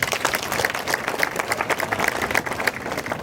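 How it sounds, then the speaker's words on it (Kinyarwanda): Audience applause for the security forces at a mayor's address after a community sports event, a dense patter of many hands clapping steadily throughout, fairly close and loud, with no voice over it. "tuzishime n'amashyi menshi"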